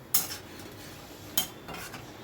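Fried koftas mixed into a curry in a pan, with two distinct clinks of a utensil against the pot and soft stirring in between, close and fairly quiet.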